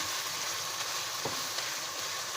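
Chicken pieces fry in a pan for a restaurant-style chicken cheese handi, giving a steady, close sizzle throughout with one brief crackle near the middle.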